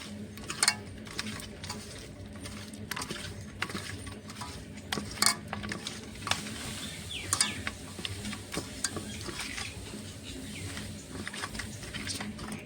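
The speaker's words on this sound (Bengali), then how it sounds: "পরিমাণ মতন হলুদ গুঁড়ো দিয়ে ভালো করে মাছটা মেখে নেব" Katla fish pieces are rubbed with salt and turmeric by hand in a bowl, making faint wet squelches and scattered light taps and clicks at an uneven rhythm, low and close.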